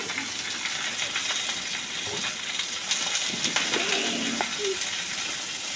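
Onion, tomato and chopped green chili fry in a pan for chili paneer, a continuous close sizzle with scattered pops and light stirring scrapes, moderately loud and steady.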